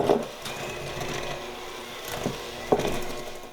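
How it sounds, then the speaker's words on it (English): An electric mixer beats sugar into cream cheese for a Basque burnt cheesecake, giving a steady close whirring drone with light rattling from the bowl throughout. "You can do this by hand, but it's easier with an electric mixer"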